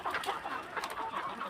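Hens cluck continuously in a farmyard flock, a soft, busy chatter of overlapping clucks heard close by, with no voices over them.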